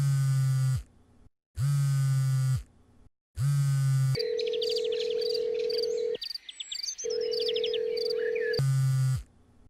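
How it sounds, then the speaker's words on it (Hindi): Unanswered phone call ringback tone: repeated long ringing pulses separated by short gaps, loud and close, with a steady tone and chirpy electronic noise filling the middle stretch. "उफ, फोन क्यों नहीं उठा रहा है?"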